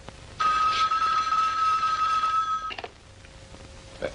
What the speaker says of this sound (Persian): سیما جون تلفن